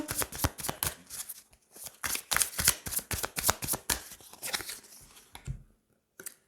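Tarot cards being shuffled before a card is drawn: a dense run of rapid, crisp papery riffles and slaps, close and fairly quiet, easing off near the end before one last brief flick.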